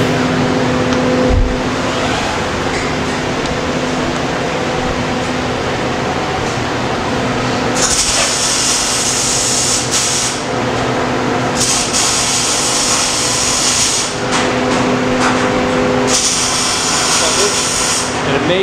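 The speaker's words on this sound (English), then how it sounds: "We're going to do a little bit of MIG welding and a little bit of TIG welding on it." MIG and TIG welding on a metal housing in a fabrication shop: a steady buzzing hiss broken by several bursts of bright crackling arc noise, with a continuous shop hum underneath and people talking.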